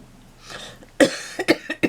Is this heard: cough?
yes